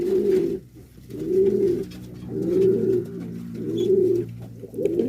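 Pigeons cooing in a pigeon loft, close and clear, in four rhythmic rolling coo phrases with short pauses between them, no talking.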